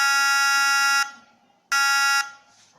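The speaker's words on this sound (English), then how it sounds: "some beeping sound is provided by the speaker" Two loud electronic beeps from a robotic vehicle's speaker when it detects metal, each about a second long with a harsh buzzy tone, separated by a short pause.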